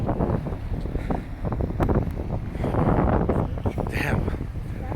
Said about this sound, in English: Right now it's getting windy.